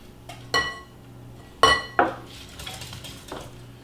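A whisk clinks against a bowl while cinnamon, nutmeg and cardamom are blended into a mixture, giving a few sharp metallic taps and scrapes close by, with quieter stirring in between.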